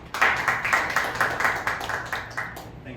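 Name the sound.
audience applause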